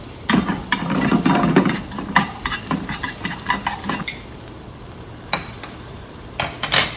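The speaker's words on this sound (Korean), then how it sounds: "항상 하얀색에서 색깔 있는 거 마지막에 이렇게 볶을게요." Vegetables stir-fried in a hot pan for a Korean cooking certification lesson: a soft sizzle under repeated scraping and clattering strokes of a utensil, loud at first and then sparser.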